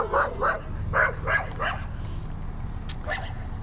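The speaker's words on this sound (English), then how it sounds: "Wow, this dog means business." A dog barks in short bursts, about five sharp, moderately close barks in a quick run, then a high yelp after a pause, over a low background hum.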